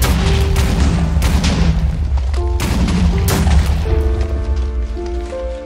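A rapid-firing weapon from a Minecraft mod, loud booming shots in a quick, uneven series with reverberant tails, followed by ringing tonal game sounds.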